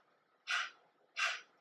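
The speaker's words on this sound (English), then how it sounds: "We're going to do a short inhale, forceful exhale." Two forceful kapalabhati exhales during a yoga core practice, each a short, sharp rush of breath, evenly spaced and close to the microphone, with quiet between them.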